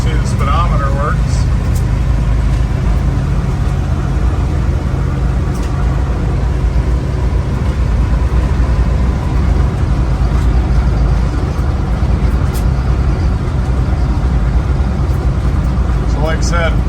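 A 1978 Ford Bronco driving, its engine and road noise rumbling steadily and loud throughout, with wind and drivetrain hum filling the cabin; no talk.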